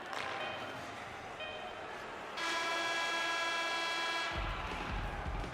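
Period-ending horn in an NHL 22 hockey video game, a loud sustained tonal blast starting partway through and holding steady over crowd noise, with commentary underneath.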